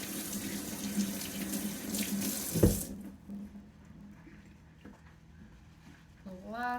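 A kitchen tap runs into a sink as hands are washed under it, a steady rushing stream that cuts off abruptly about halfway through and leaves a quieter room with faint background sounds.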